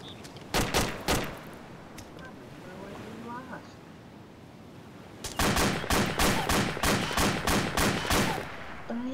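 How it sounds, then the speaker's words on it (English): A big gun firing in the combat game Arma 2: a quick cluster of loud, booming shots, a pause, then a long, steady series of heavy rhythmic blasts close by. "Damn, that's a big gun."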